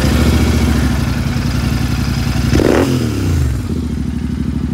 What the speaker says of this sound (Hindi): ये रही अपनी जीटी, एक बार आपको साउंड सुना दूं इसकी